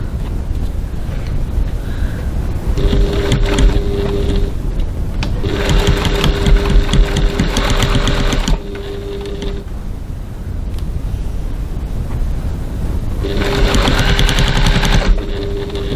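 A sewing machine bastes fabric along a piping line in several loud bursts of steady running, with brief pauses between.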